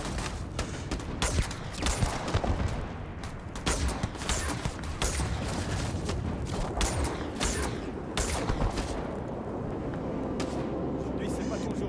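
Rapid, irregular gunfire in the space game Starfield, with sharp close shots cracking in dense bursts over a constant rumbling backdrop, while someone talks over the action.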